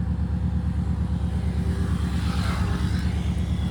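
An overlanding vehicle's engine runs on a drive up to a hilltop in Colombia, giving a steady, close, low droning hum that holds evenly throughout with no voices over it.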